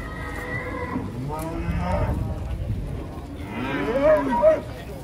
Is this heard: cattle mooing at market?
yes